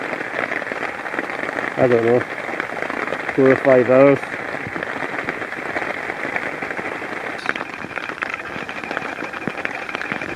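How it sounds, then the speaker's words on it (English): Heavy torrential rain falls steadily on a hammock and tarp camp in Scotland, a dense continuous patter throughout, with someone speaking briefly in the middle. "it's just very heavy rain"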